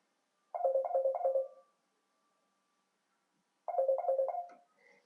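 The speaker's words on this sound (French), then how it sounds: "Donc c'est mon téléphone qui sonnait." A mobile phone ringtone plays two bursts of a quick repeating electronic melody, separated by a few seconds of silence, clear and alone, with no talking.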